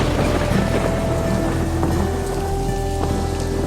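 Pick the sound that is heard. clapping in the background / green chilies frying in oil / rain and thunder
rain and thunder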